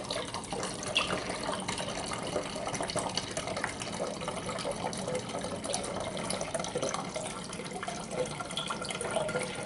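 A liter of coconut water is poured into a bottle, producing a continuous, soft splashing and gurgling liquid stream at close range with no voices.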